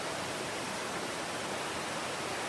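Steady, even rush of a waterfall along a hiking trail at Stone Mountain, heard from a distance through trees, a constant hiss without talking.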